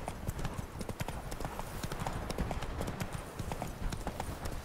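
Horse hooves clip-clop at a steady trot as a rider travels in The Witcher 3, a quiet, continuous rhythmic patter with no talking.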